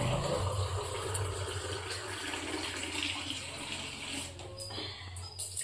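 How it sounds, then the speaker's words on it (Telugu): Water is poured from a glass into a cooking pot for a tamarind-leaf and greens curry, a steady splashing stream heard close with a low background hum and faint clinks near the end. "వాటర్ అనేది యాడ్ చేయాలి"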